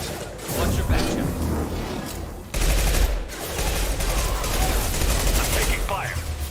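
Sustained gunfire from the video game Mass Effect 2 crackles in dense bursts, with booms and mechanical clatter amid battle, while voices speak over the shooting.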